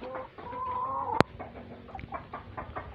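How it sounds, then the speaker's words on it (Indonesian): A hen gives its laying song just before laying an egg, with a few clucks and a drawn-out cackling call, then a sharp click and softer clucking, close by with no talking. "Ini udah nembang, ini posisi udah nembang, siap nelur ya."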